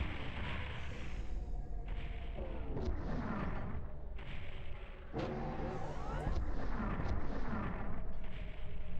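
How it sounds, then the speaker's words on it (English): Chain gun fire aimed at the player in Final Doom on the PS1, bursts of rapid booming shots mixed with explosions and game effects, loud and repeated in clusters throughout. "that chain gun hitting me from the back there is always such a problem"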